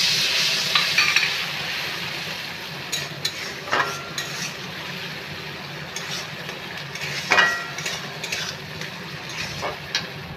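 Mustard paste fries in a pan under a continuous crackling sizzle, with scattered scraping knocks as it is stirred.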